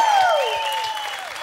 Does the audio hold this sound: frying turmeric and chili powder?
no